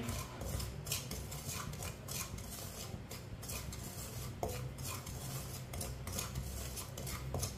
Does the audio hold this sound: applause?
no